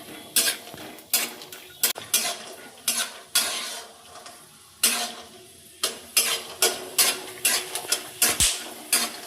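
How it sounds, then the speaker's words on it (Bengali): Peanuts are fried in a pan in a home kitchen, heard as repeated loud scraping stirs of a spoon against the pan, with sizzling and crackling between the strokes and no talk. "তো এখানে বাদামগুলো ভাজা হচ্ছে, দেখতেই পাচ্ছ।"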